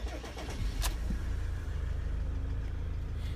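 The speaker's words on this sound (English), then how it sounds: "You can hear the 3-litre start straight up" A 2007 Iveco Daily curtain-side box van's 3-litre engine cranks briefly and catches, then settles into a steady, loud, low idle rumble close by with no talking.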